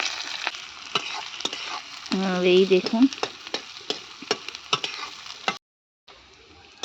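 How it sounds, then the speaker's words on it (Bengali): Onions hitting hot oil with whole cardamom and cinnamon sizzle loudly, with a spatula knocking and stirring in an irregular rhythm. A person speaks briefly and the sound drops out near the end. "তো পেঁয়াজটা দিয়ে দিলাম"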